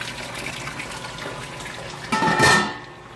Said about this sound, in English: both pumps running. Water is recirculating, if you take a look right here, into the Herms coil.